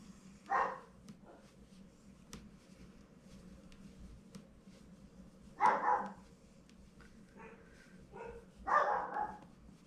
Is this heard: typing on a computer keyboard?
no